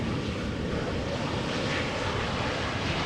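Airliner approaching to land at Amsterdam Schiphol Airport, a steady, loud, broadband engine roar that stays constant throughout.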